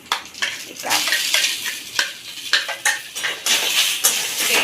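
Panch phoron spices and a bay leaf fry in hot oil in a pan, giving close, bright sizzling bursts mixed with sharp metallic spoon clinks in an uneven rhythm, with no speech.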